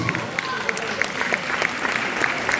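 A festival crowd at a village quiz applauds after a correct answer, sustained clapping with crisp individual claps popping out near the front, some voices mixed in.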